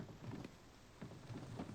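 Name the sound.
rain starting to fall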